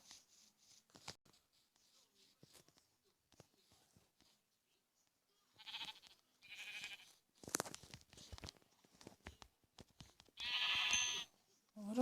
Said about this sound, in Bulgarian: Сега ще убия тази овца да не ми избяга някъде.